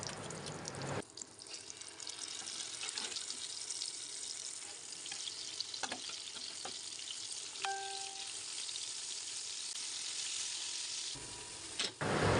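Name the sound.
rohu fish frying in hot oil in a wok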